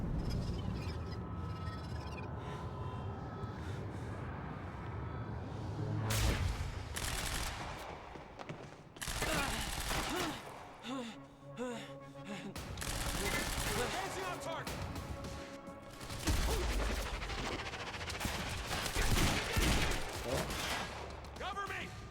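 Gunfire in the video game Quantum Break, bursts of automatic weapon fire and shots rattling through loud game audio, mixed with shouted voices and music.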